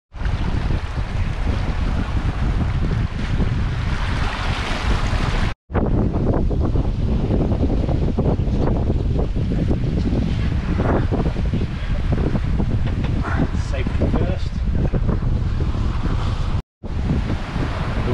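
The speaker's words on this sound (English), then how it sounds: "Waves have certainly picked up," Waves and wind at sea aboard a sailboat crossing the Atlantic: loud continuous wind buffeting and rushing water, with surges of spray, close and unbroken apart from two brief cuts, no speech.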